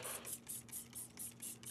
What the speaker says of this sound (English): You can use the product as a spray disinfectant by simply spraying down surfaces